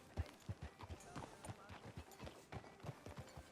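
Horse hooves clip-clop in a steady rhythm in Red Dead Redemption 2, each moderately loud footfall landing about every quarter second, with faint game ambience behind.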